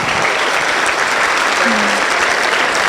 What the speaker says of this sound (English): Let's keep clapping until he gets to his seat.